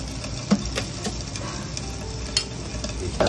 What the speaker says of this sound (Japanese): その後にごま油を垂らしてカリッと仕上げる